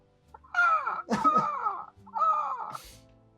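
A person imitates a crow with three harsh, drawn-out squawking caws, loud and close, separated by short pauses.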